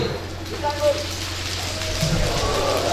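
A crowd at a religious program makes an imitation of rain with hand claps, a dense patter close by, heard briefly with a voice over it.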